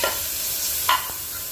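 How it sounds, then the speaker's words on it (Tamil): Chopped tomatoes sautéing in a hot pan for coriander kurma, a soft steady sizzle with a brief scrape of stirring partway through, close and alone without talk. "கூடவே கட் பண்ணி வச்சுருக்கிற தக்காளி ஆட் பண்ணிக்கோங்க. ஆட் பண்ணிவிட்டு நல்லா வதக்கிக்கோங்க."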